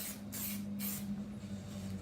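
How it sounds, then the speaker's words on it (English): Three quick hissing blasts from a spray fixative can over chalk drawing, then a softer continuous spray, all close up over a low steady hum. "Spray fix"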